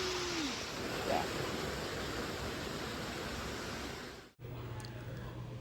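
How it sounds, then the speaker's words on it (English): Loud, steady rushing water from Mount Doug Creek pouring over a weir roars continuously, a constant broadband wash that briefly cuts out near the end. "You can really see where all that water is moving around. It's really loud, but there it is."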